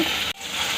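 Loud, dense sizzling of fritters frying in hot oil in a wok, with a brief dip in the hiss partway through before it resumes.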